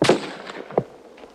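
Rifle shots crack at a barracks shooting range in a 1954 German war drama, two sharp reports with echoing tails and a faint third pop, no voices between them.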